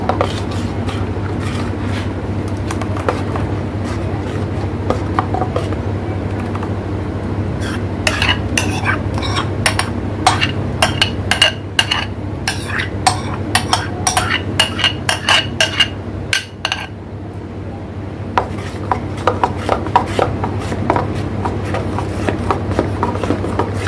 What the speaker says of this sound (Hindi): अब व्हिप की हुई क्रीम में हम मैंगो का पल्प शामिल करेंगे और इसको साथ साथ फोल्ड करते जाएंगे